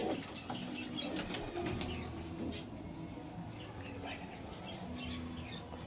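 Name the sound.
pigeons cooing, Madras pigeons at a sale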